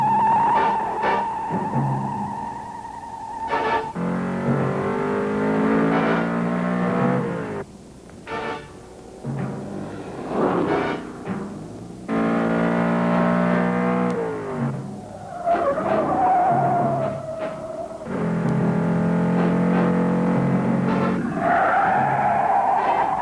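A 1971 Dodge Challenger with a 383 engine is driven hard, roaring through repeated loud revs and gear changes, broken by long tire squeals and skids, close and powerful, with brief lulls between the bursts.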